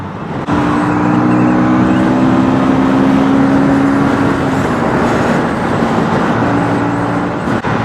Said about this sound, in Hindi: pickup is good as expected from KTM Duke.